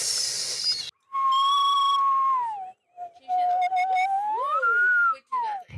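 A person whistles a sustained melodic tune with sliding pitches and short breaks, fairly close, following a brief burst of hiss at the start.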